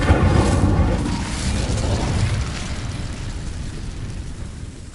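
In Hogwarts Legacy, the Incendio fire spell bursts out as a loud, dense roaring whoosh that holds steady for a couple of seconds and then slowly fades, with no voices over it.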